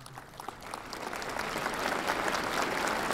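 An audience at a university presidential inauguration breaks into applause, clapping that starts thin and swells into a fuller, sustained round from a large crowd.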